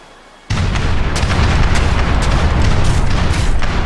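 Ship cannon volley in an Age of Empires 3 cutscene, a sudden heavy blast followed by sustained rumbling explosions and repeated booms, loud and close.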